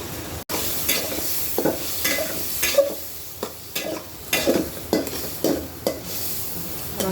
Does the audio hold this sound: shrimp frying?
yes